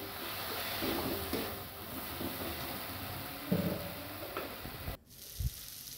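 Coriander leaves are stirred into a frying spice mix for chicken curry, giving a soft, steady sizzle with occasional spoon scrapes and knocks against the pan; no voices.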